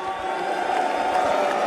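An audience at a Dota 2 esports event, The International 2025, cheers and whoops in a steady, dense roar.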